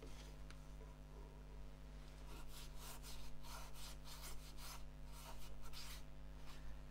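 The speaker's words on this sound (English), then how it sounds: "they come off quite easily with a bit of old Scotch-Brite." Old Scotch-Brite rubs over the surface of a wavy casuarina wood bowl, giving faint rhythmic scratchy swishes over a steady low hum.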